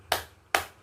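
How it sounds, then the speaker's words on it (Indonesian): Two sharp, evenly spaced group claps of a classroom spirit cheer, close and crisp, with a short pause between them and no talking. "Sekali lagi, tepuk semangat."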